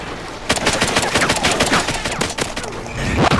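Rapid bursts of automatic gunfire from a Call of Duty: Ghosts multiplayer match crackle loud and close for about three seconds, shots overlapping in quick succession with no talking.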